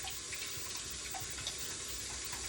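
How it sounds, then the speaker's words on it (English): Hot water runs steadily from a tap into a bottle, a continuous soft splashing hiss at low level with no talk over it. "Since I'm doing greens, I usually run hot water inside the bottle."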